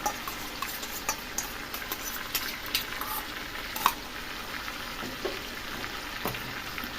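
Raw jackfruit frying in a pan with spiced yogurt, a steady soft sizzle with occasional stirring scrapes and clinks, close and moderately quiet throughout.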